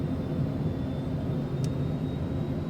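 Steady, loud engine roar of an aircraft taking off at Venice in a flight simulator, a continuous broadband drone with a brief high chirp midway and no talk over it.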